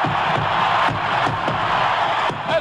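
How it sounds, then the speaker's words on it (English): A sellout baseball stadium crowd roars for Hank Aaron's 715th home run, a broad, sustained wall of cheering and whooping from a large distant audience, continuous and loud with no pauses. "This sellout crowd is cheering Henry Aaron, the home run king of all time."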